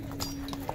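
Horse hooves clop at a horse market in Bishkek, a few quick, fairly faint knocks against a steady background din.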